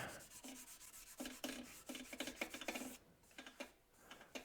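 A natural-edge koa wood bowl sanded by hand with 400-grit sandpaper, giving close, quiet rhythmic rubbing strokes with short gaps between passes.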